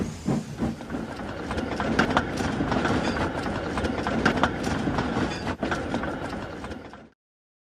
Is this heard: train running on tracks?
yes